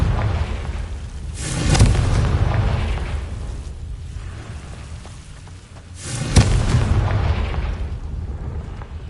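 Confringo fire spell explosions in the Hogwarts Legacy video game, two loud booming blasts a few seconds apart, each rolling off into a rumbling tail.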